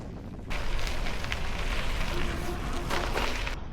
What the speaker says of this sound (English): winds right now are about 20 miles an hour, just straight into it